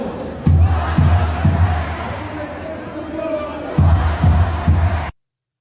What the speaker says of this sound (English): pro-Hamas crowds actually chanted for the decapitation of Israelis